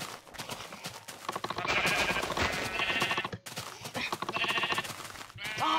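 Minecraft sheep bleating repeatedly in quick, wavering cries, with game clatter and thumping between the bleats, fairly close and loud.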